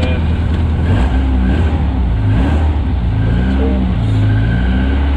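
A K-series-engined MG Midget idles after a reluctant start, its engine note steady and loud with slight wavering revs throughout, close by, with no talk over it.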